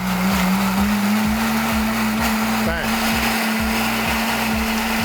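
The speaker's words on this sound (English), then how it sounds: "it's all gonna go into a blender here. Okay. And then it's gonna blend it up." A kitchen blender whirs steadily, blending enchilada sauce ingredients such as chili, cumin and coriander seed, a loud continuous motor drone with rhythmic chopping pulses, and a short spoken word over it.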